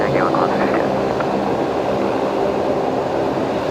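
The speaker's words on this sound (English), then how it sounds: "Wow, that Link Airways is pretty noisy, even all the way over there" A Link Airways aircraft taxis at Brisbane Airport, giving a broad, steady engine rumble from a distance. A voice speaks briefly at the start.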